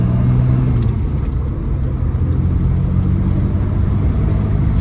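A 1961 Jaguar MKII 2.4 with a manual gearbox accelerates steadily, its engine giving a continuous low rumble with a rising drone that stays loud and close throughout, with no voices.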